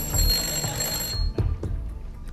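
An old telephone bell rings loudly for about a second, then stops, leaving a few faint knocks and room noise.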